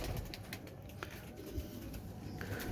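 Rampuri pigeons at a Lahore pigeon market coo and flutter amid steady, busy market noise, with a few sharper bird calls cutting through now and then.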